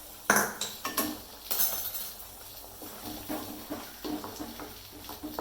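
A spoon stirs egg curry masala in a pan, with repeated scraping and clinking of metal on the cookware in uneven bursts, close and fairly loud, with no voices.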